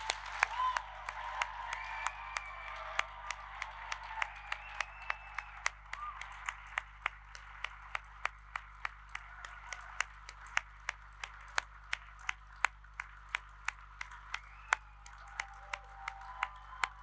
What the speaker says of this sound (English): let's start today's ceremony by giving our amazing graduates a huge round of applause